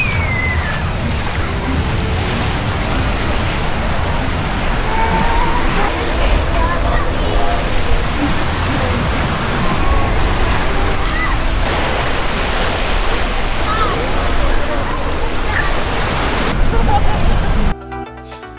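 Clear sea water sloshes and washes steadily at a Mexican beach, a close, continuous rush of surf and splashing that runs for most of the stretch before cutting off abruptly near the end.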